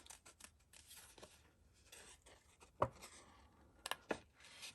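Scissors snip through paper card while trimming away a white border for a handmade sunflower card, a few sharp close cuts and rustles scattered through a quiet stretch.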